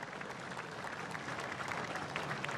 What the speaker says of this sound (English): And hear the applause of the crowd